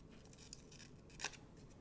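Scissors snip through a paper sticker, cutting away a leaf shape, with a single sharp close cut standing out against quiet room noise and no talking.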